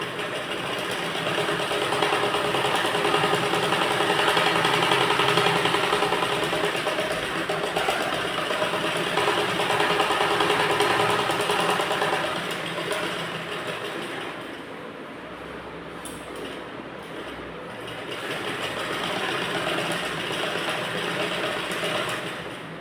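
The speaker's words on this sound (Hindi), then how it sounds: "अब हम इसको यहाँ से रख करके स्टिच करेंगे।" Sewing machine stitching a princess cut blouse, a steady loud mechanical whir running without break, dipping briefly for a pause partway through before resuming at full speed.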